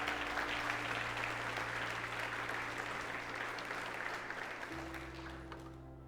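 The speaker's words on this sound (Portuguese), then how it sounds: "Você pode aplaudir o nome do Senhor Jesus por isso?" Steady congregation applause fills a church during a sermon on the churches of Revelation, continuous throughout over a low sustained organ or keyboard drone that shifts pitch near the end, fading slightly.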